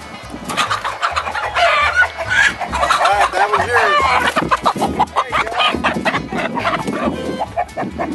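Chickens on a pig farm cluck and squawk loudly and continuously as they are grabbed by the feet and caught, with a rooster-like crow mixed in and people talking among the flapping birds.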